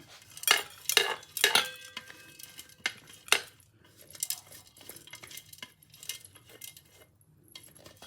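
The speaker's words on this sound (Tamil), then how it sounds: "அரைச்சி கொண்டு வந்துட்டேன் இது ஒரு பாத்திரத்தில் போடுறேன்" Ground pakoda batter being scraped from a grinder jar into a metal vessel, several sharp metallic clanks and scrapes of a spoon against metal, then quieter scraping and tapping, no talking.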